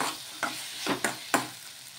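A spoon scrapes and stirs through thick tomato-onion chutney with tamarind in a pan, four quick separate strokes over a soft background sizzle.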